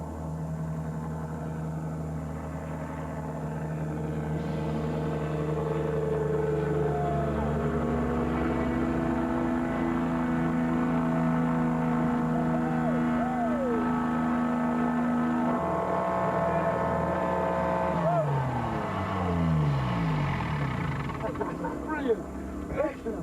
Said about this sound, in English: it requires a certain courage to even attempt a landing in this place.